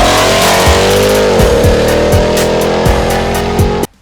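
A twin-turbocharged Ram TRX pickup truck accelerates hard, its loud engine roar climbing through several gear shifts before cutting off abruptly, with no talking.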